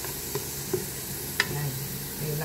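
Green peas and garbanzos being stirred in a pan with a light sizzle, a few soft spoon scrapes and taps spaced across a steady background hiss.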